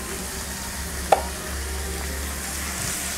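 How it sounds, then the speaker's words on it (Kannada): Sliced tomatoes frying with onions in a pan, a soft steady sizzle running throughout, with one sharp utensil tap near the start and low background hum, no talking. "ಟೊಮೊಟೊ ಚೆನ್ನಾಗಿ ಫ್ರೈ ಆಗಬೇಕು."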